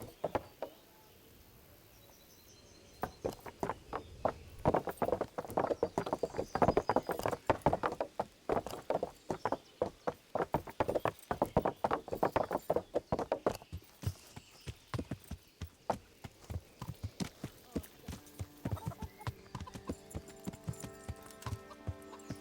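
Hooves of a horse in the video game Kingdom Come: Deliverance clip-clop at an even walking pace for a long stretch, crisp and close, with no talking.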